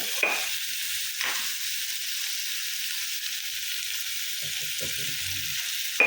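Onions, tomato and spice powders fry in a pan with a soft steady sizzle, broken by a few stirring scrapes and clinks near the start and end, heard close with no talk.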